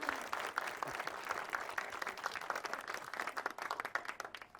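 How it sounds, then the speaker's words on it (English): Guests at a wedding ceremony clap together in a brisk, crackling round of applause, the many individual claps distinct and moderately near, holding steady before thinning slightly toward the end. "Can we get a round of applause for them?"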